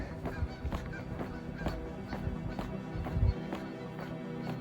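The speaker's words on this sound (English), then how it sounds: "Apart from those honking geese." A flock of geese honks repeatedly in a steady, overlapping chorus, moderately distant, with no talking.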